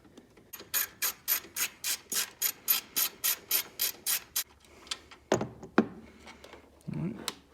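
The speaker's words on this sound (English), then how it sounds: "take a 10mm socket and just remove this and install your ground" A 10mm socket ratchet works a bolt loose on a Jeep JL, about fifteen quick, even clicking strokes up close, followed by a few scrapes and handling sounds.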